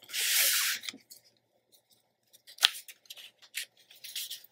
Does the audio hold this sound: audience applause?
no